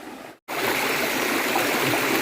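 Water gushing steadily in a nature stream, a close, continuous rushing wash after a brief cut near the start, with no voices.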